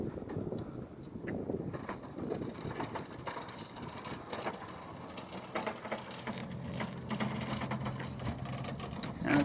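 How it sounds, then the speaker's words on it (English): An RC-controlled trailer driven by an ODrive motor controller whirs and ticks mechanically as it moves around. The motor noise is faint and wavering, with small clicks and a steadier hum building toward the end. "Here I'm driving it around for the first time."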